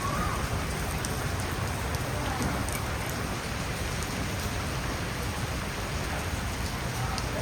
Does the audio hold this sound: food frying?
no